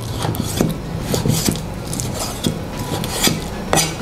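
Steady, irregular chopping taps on a cutting board as ingredients are minced, close and fairly quiet, with knife knocks coming in quick uneven bursts.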